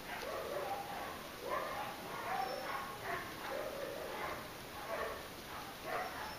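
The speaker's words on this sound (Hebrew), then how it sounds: "כמו שאתם שומעים, גם הכלבים מתרגשים בחוץ." Several dogs barking and yipping outside, muffled and distant, in irregular repeated bursts with some whimpering, over a faint constant hiss.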